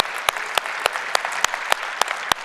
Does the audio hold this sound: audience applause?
yes